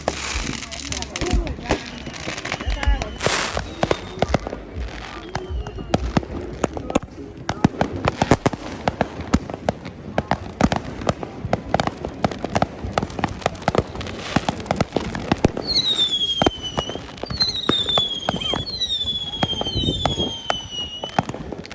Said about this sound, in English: Fireworks were exploding in 360 degrees around us